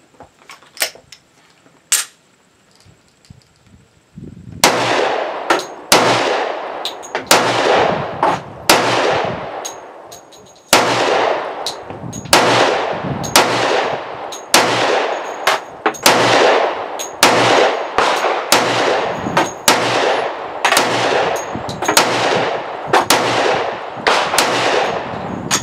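A Springfield Armory XDm 10mm pistol fires about twenty sharp, loud shots outdoors, a few spaced shots first, then a steady string of rapid shots with echoing decays.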